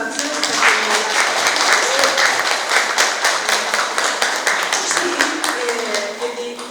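Steady audience applause at a tea-bowl culture forum in Busan, a dense wash of many hands clapping throughout, fairly close and loud, fading slightly at the end.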